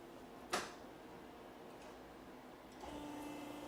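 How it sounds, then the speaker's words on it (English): A sharp click, then the low steady motor hum of an automatic chiropractic table starts up and runs quietly in the background. "I'm going to turn on the automatic function of this table. It's going to have some background noise."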